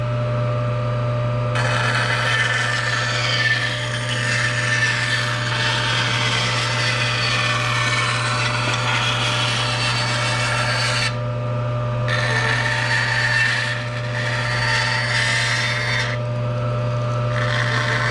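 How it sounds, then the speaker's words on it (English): Bandsaw cutting through a wooden cutting board, a loud steady motor hum under rough rasping blade noise that pauses and resumes a few times, with no talk. "this will be your first time using the bandsaw"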